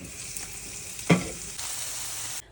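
Zucchini fries in a pan with a steady, fairly soft sizzle, broken by one brief sharp stir or clatter midway, with no voices.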